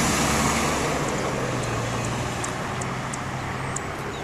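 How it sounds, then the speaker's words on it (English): Steady, distant roadway hum of cars passing on a quiet Sunday-morning street, a continuous broad wash of traffic noise with faint high chirps from birds nearby, no talking. "Lazy cars for a Sunday morning."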